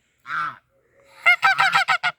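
Goose honking near a nest where eggs are being brooded, one short honk and then a rapid run of five loud, close calls.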